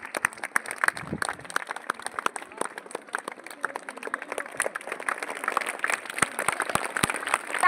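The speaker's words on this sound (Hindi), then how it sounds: "जोरदार तालियां बजाकर इनका स्वागत करें।" Audience applause greeting members of a Gyan Bharati group school as they take the stage at an event, a steady patter of many hands clapping throughout with scattered sharper claps near the end.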